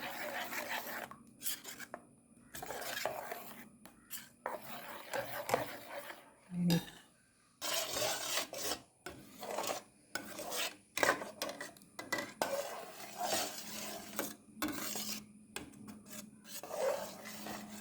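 A spoon scrapes and stirs papaya juice into a warm homemade beauty soap mixture in a pot, with repeated rasping strokes that come in uneven bursts and short pauses, faint and close.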